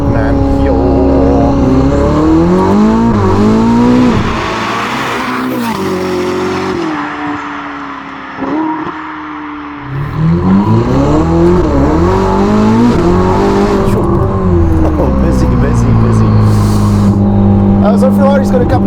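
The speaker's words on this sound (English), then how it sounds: "It gives it a bit of a low down rumble and a slight high pitch as well" Novitec-tuned Ferrari SF90 Spider, a 1109 hp supercar, accelerating with a deep exhaust rumble and rising high-pitched engine tone, loud and close, easing briefly mid-clip before surging again through gear changes, with a person talking over it.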